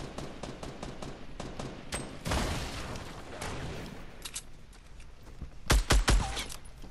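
Gunfire in Fortnite: rapid rifle shots crack in quick strings, with a denser volley midway and a final burst of loud, close shots near the end.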